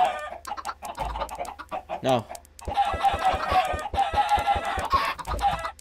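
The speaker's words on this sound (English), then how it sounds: "Goodbye, chickens. You're really loud." Minecraft chickens cluck and squawk loudly in a busy, overlapping flock, close by, with a brief spoken word partway through.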